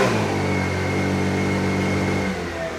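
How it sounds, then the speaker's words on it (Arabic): A failing motorcycle engine that cannot rev fully is throttled up, droning with a flat, strained tone that never climbs, then sags back toward idle after about two seconds; close, loud, and without any voices. "موتور ميت ما كيرونفليش، الرونفلاج ما كيطلعش كامل."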